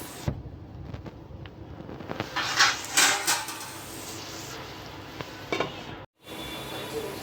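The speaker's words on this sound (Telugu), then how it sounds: "వీటిని మూత అయితే మగ్గించుకుందాం" A cooking pot is covered with its lid during a village-style egg and dried fish curry, giving several close metallic clinks and a clatter amid steady kitchen noise, with a brief drop to silence near the end.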